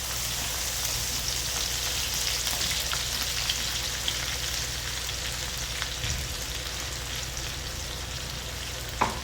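Crushed garlic fries in hot oil in a pan for an okra dish, giving a steady close sizzle that crackles evenly throughout with no talking.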